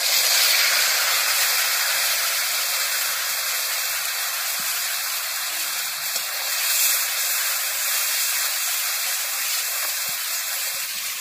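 Spices mixed in water hitting hot oil in a pan while cooking dahi potol, producing a loud, steady, broad sizzle and hiss that holds evenly throughout without talk.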